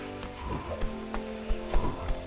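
Rain patters in the Jurassic World video game, a light steady hiss with scattered drops tapping on surfaces, heard alongside low humming tones and a few soft thumps, with no voices.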